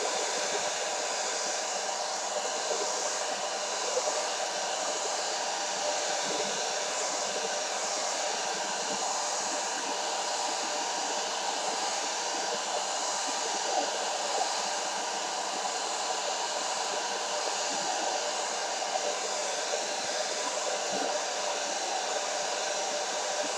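A hair dryer blows steadily and loudly at close range for the whole stretch, drying a mixed media postcard made from a cereal box, with no talking.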